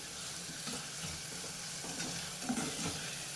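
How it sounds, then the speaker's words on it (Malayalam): Tomatoes being stirred and sautéed in a pan for South Indian rasam, a soft, steady sizzle with faint scraping strokes of a spoon, close and fairly quiet, with no voices. "ഒന്ന് ഇളക്കി ഒന്ന് വഴറ്റിയെടുക്കാം"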